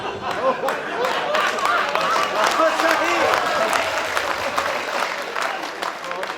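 Audience clapping at a Hindi kavi sammelan poetry recital in Kotma, a dense sustained round of applause from a seated crowd, with voices audible underneath.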